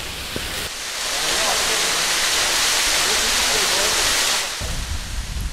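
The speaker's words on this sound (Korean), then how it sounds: "시원한 폭포 앞에 서니" A waterfall roars close by, a loud, steady rushing wash that swells in after a brief pause, holds evenly, then eases back down near the end.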